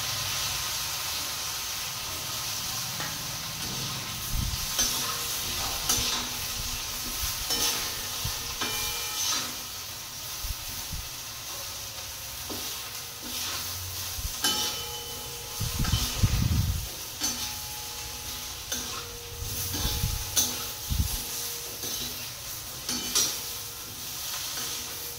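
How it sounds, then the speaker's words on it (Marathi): Colocasia leaf rolls (alu vadi) frying in hot oil: a continuous sizzle and hiss with occasional stirring clinks and low thumps from the pan, steady and fairly close. "आळूवड्या कट करून घेतल्यात ते आता तळून काढू"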